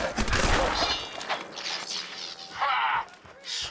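Clanking metallic mechanisms and grinding, ratcheting clatter as the Blade of Bastet severs a destroyed Mobbot's head in Fallout 4, a dense burst at first that thins into scattered scrapes and short whirring bursts.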